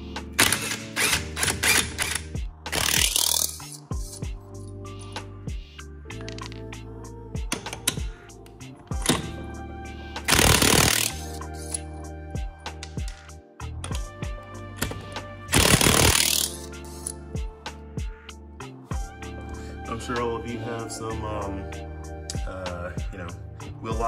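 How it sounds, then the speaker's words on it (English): Impact gun taking the wheel nuts off a C8 Z06 Corvette with a 7/8 socket, close and loud rattling hammer bursts of a few seconds each, separated by clanks and handling noises. "obviously using your impact gun and your 7/8"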